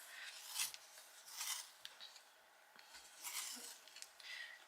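A pencil sharpener grinds a liquorice-coloured pencil and needs a new blade, giving several short, quiet rasping bursts separated by brief pauses, close up and with no voice.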